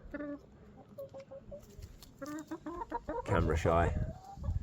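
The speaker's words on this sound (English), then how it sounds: "Oh, good chicken, good chicken." Several backyard hens cluck and murmur in short bursts close by, building to a louder flurry of squawks near the end, with brief speech over them.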